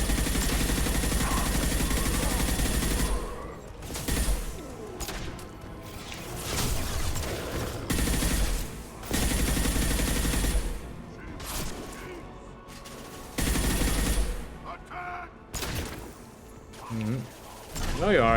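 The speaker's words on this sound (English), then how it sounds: "that's a lot of wall you're shooting" Gunfire in Mass Effect 2, bursts of weapon fire hammering a wall in rapid, uneven volleys with loud impacts and short pauses, mixed with game sounds and a voice talking over parts of it.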